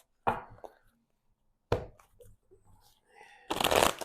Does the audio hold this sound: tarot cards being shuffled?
yes